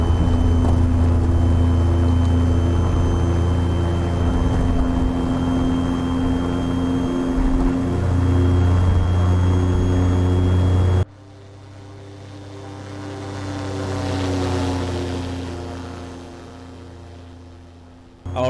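An aircraft engine in the World of Aircraft: Glider Simulator video game runs at full throttle for takeoff. It gives a loud, steady droning roar with a strong hum, which shifts to a thinner, swelling whine partway through. No voices are heard.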